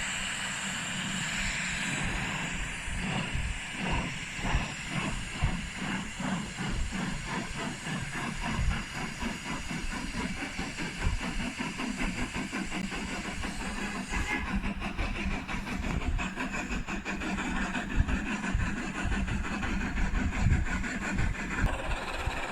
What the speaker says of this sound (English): The rails hummed, and the cars clattered behind him.